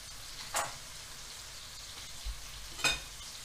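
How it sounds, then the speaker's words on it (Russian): Mushrooms fry in butter in a pan: a soft, steady frying sizzle fills the background, broken by a couple of brief utensil clinks or scrapes; no talking. "Так, грибочки наши обжариваются"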